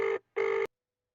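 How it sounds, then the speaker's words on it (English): A telephone rings in two bursts, each trilling tone lasting about a quarter second with a short gap between, fairly clear and close, then silence in a quiet room. "You can hear my telephone ringing in the background."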